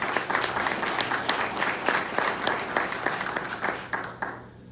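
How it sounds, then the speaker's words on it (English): A crowd claps steadily at a state representative candidates' debate, dense applause holding for several seconds with scattered sharper claps before it thins out near the end. "So please give them a round of applause."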